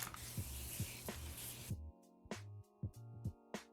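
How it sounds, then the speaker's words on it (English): A handheld spray bottle mists water onto hair, giving a series of short, close hissing bursts spaced about half a second apart, with no talking. "I'm just going to be wetting it with my handy dandy spray bottle"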